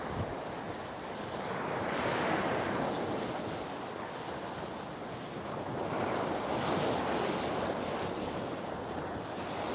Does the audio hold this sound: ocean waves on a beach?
yes